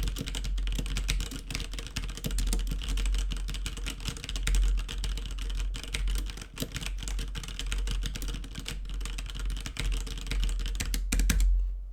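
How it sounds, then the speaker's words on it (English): Steady, fast clicking of typing on a computer keyboard at a desk, close and continuous for several seconds with no talking. "Let's go ahead and do some typing."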